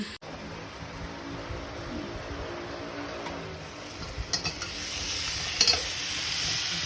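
Vegetables sizzling in a pan during home cooking, a steady close frying hiss with a few stirring knocks and scrapes partway through.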